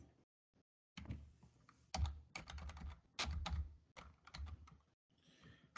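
Keys on a computer keyboard clatter in quick irregular bursts as an IP address is entered, after a brief silent pause at the start, close and fairly loud with no talking.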